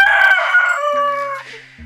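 Rooster crowing in a video game, a loud drawn-out cock-a-doodle-doo with a layered harmonic call that tapers off near the end, heard alone with no talk.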